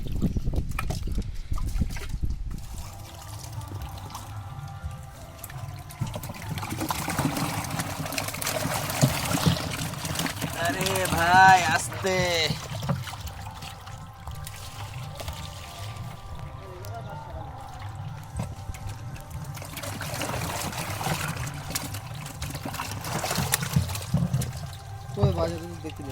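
Water pours and trickles into a container outdoors while people talk throughout, the splashing rising and falling in several bursts over the length of the clip.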